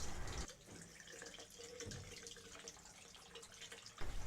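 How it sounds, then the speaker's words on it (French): Tap water runs from a faucet for ear irrigation, a soft steady stream of flowing water, faint and close, with no talking. "Elle utilise de l'eau du robinet et s'assure que la température est à 40 degrés."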